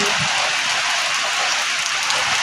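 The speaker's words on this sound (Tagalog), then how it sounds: "Ang lakas ng ulan." Heavy rain pours down in a dense, constant hiss, drumming steadily on a plywood shop nearby with no voices.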